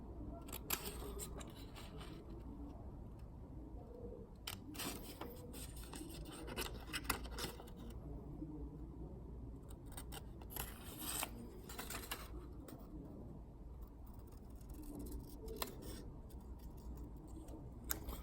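Scissors cut a paper airplane template in close, quiet snips and rasping strokes that come in irregular bursts over a low background hum, with pauses between cuts.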